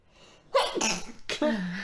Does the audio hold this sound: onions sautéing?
no